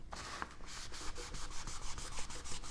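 A finish is rubbed by hand into a wooden test board for a guitar project, giving about ten quiet, even back-and-forth strokes in a steady rhythm with nothing else heard.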